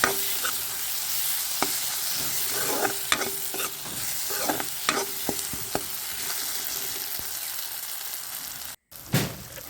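Washed fish sizzles loudly in a pan of hot oil, a dense steady crackle broken by sharp spattering pops and clicks, close up, with a brief cut near the end.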